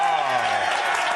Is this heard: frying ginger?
no